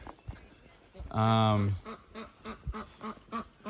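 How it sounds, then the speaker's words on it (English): A duck quacks once in a backyard, a loud, close honking call of about half a second, surrounded by quieter rustling and a few softer sounds. "There's a duck."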